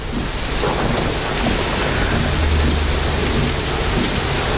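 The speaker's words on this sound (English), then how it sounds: "A rainy night." Heavy rain and thunder roll through a stormy night, a loud unbroken wash of downpour with deep rumbling underneath, no voices.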